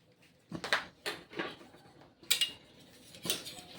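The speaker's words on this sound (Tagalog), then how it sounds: "Tapos, ilagay na natin ang labanos." Sliced radish dropped into a pot of sinigang na bangus, milkfish in sour broth, giving several separate clinks and knocks against the pot at irregular intervals, close and moderately loud.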